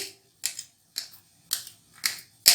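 Knife cutting peeled bananas into small pieces on a board for banana kheer: five or six sharp, separate chops spaced about half a second apart, close and clear with no talking.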